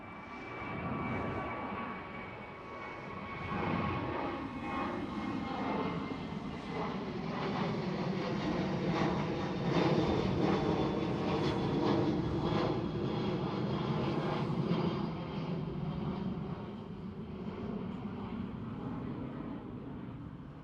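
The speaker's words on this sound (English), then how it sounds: "Well, Transavia 737 is taking off." A Transavia Boeing 737 jet takes off at Amsterdam Schiphol, its engines building into a loud, sustained roar with a rising whine that swells and holds for about twenty seconds before easing slightly.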